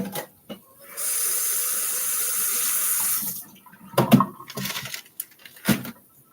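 Tap water runs into a kitchen sink for a rinse while Dr Pepper sloppy joes are being cooked, a loud steady gush lasting about two seconds, then cut off and followed by a few sharp clatters and knocks.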